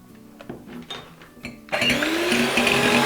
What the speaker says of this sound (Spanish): Y tenemos que batir las claras a punto de nieve